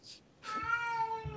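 A cat gives a single drawn-out meow, preceded by a short higher cry, fairly quiet and close with no talking.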